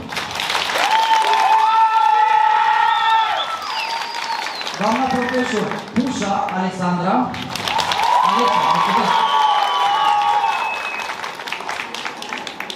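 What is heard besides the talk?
audience applause at a school freshman ball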